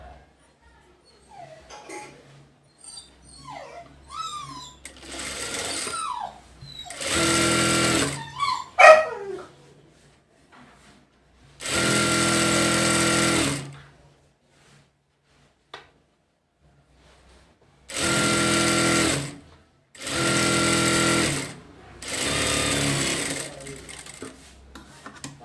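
A sewing machine stitching cowl sleeves for an umbrella frock: several loud, steady whirring runs of a few seconds each, broken by pauses. A dog whimpers and yips early on, and there are faint fabric handling noises between runs.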